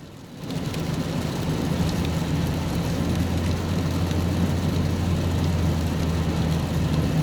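Heavy rain pours in a steady, dense hiss over a constant low engine drone while a mobile home is hauled through a rainstorm, loud and unbroken after a brief quieter start.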